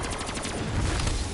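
Rapid gunfire in a video game zombies mode, a dense burst of shots that fills the whole moment loudly and without pause.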